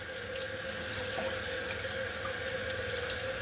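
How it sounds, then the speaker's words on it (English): Sink sprayer rinsing Nama J2 juicer parts, a steady close rush of running water and spray that holds even throughout with no talk. "what I'm just going to do is rinse all that out"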